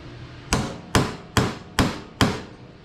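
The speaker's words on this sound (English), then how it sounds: "So right now I'm hammering straight down." Five loud, evenly spaced metallic hammer blows strike a punch that tightens timpani rivets, each a sharp close crack with a short ringing decay and no talking.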